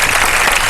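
A studio audience bursts into loud, dense applause, a brief wash of clapping heard alone and up close.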